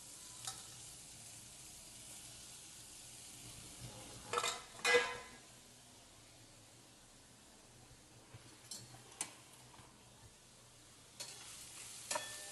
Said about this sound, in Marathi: आता परतून घेते.